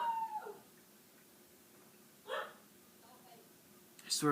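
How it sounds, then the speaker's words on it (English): A dog barks inside a house, with a few short, muffled barks at a distance separated by long stretches of quiet room tone. "My grandparents' dog needs to shut up."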